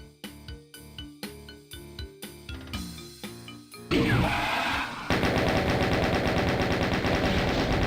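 Gunfire from Doom II: about a dozen evenly spaced loud shots, then a dense, continuous rapid-fire barrage that keeps getting louder and runs to the end, with no speech.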